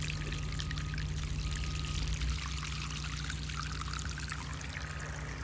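Water runs steadily from an irrigation pipe in an apple orchard, a continuous close pouring and splashing rush that slightly shifts in tone partway through and carries on without pause.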